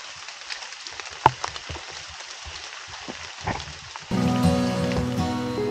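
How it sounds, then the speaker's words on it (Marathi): Sudden heavy rain patters across a dense, misty forest, with scattered drops and sharper taps at first before the downpour jumps to a louder, steadier rush. "आत्ता आपण बघतोय ना असला तुफान पाऊस सुरू झालाय"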